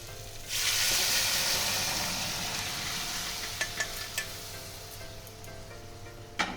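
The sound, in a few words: boiled lentils poured into pan with sautéed papaya and spices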